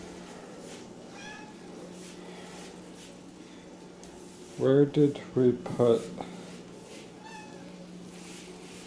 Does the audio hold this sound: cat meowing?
yes